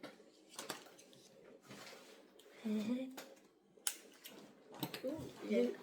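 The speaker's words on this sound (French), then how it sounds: "Il coupe super bien ces ciseaux." Kitchen-style scissors snip ribbon in short irregular cuts close by, mixed with small clatters and handling sounds while a person talks in French.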